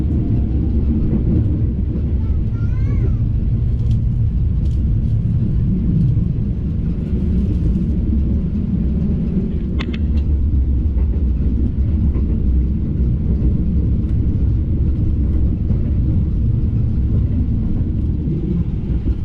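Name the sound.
passing train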